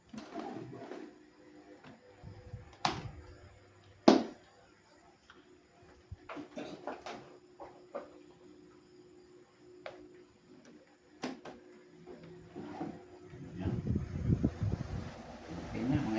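An electric fan, just repaired with a new capacitor to spin faster, pushes air across the microphone as a gusty low rumble that swells toward the end, with scattered sharp handling clicks earlier.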